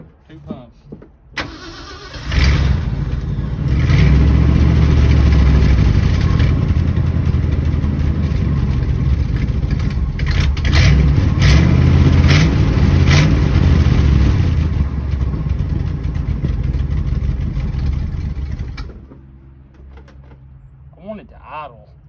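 Abandoned 1967 Ford Highboy truck engine cranking, catching and running loudly and roughly for about sixteen seconds, with a few revs, then cutting off; people talk over it.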